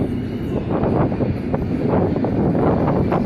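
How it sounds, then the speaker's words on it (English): Steady low rumbling wind buffeting continuously on a train ride, loud and close, with a faint mechanical hum underneath; no voices. "I can hear the wind"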